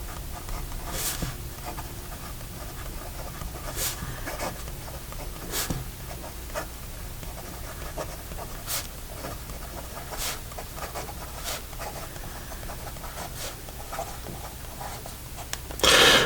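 Fisher of Pens Mint Series fountain pen with a Jowo nib writing on paper, a soft scratchy nib glide broken by sharp, intermittent ticks of pen strokes over a steady low room hiss, close and quiet with no talking.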